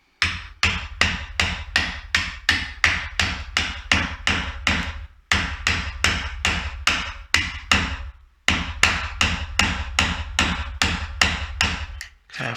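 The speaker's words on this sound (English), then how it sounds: "I can get my chisel underneath there, set it back about 2mm" A chisel struck with a mallet to cut out a door latch plate recess in a wooden door, a steady series of sharp, close knocks at an even pace in three runs broken by brief pauses.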